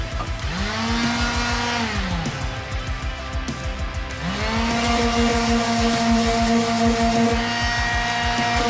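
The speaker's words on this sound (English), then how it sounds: "I'm using a sander with 220 grit to remove the paint." A power sander fitted with 220-grit paper grinds paint off a van's floor, a loud steady motor whine that rises and settles, dips briefly midway, then runs on continuously and close.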